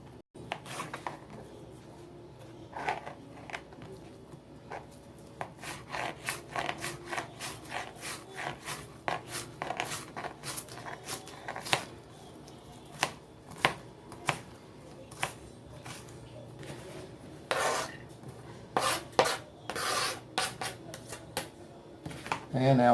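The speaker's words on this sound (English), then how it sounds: "Now we'll cut the onions." A knife chops onions on a cutting board, with repeated sharp taps and scraping strokes in an uneven rhythm, close and fairly clear, spread across a stretch with brief pauses.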